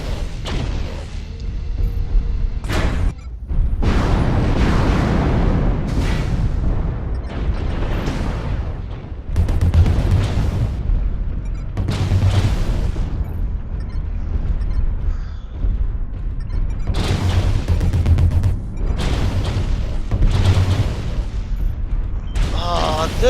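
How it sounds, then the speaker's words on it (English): Ammunition cooking off on a damaged mech in MechWarrior Online, heard as repeated booming explosions and rumbling blasts in loud bursts across the whole stretch, under a voice talking over the battle. "you notice all those little itty-bitty explosions? That's my ammo. That's my ammo going off."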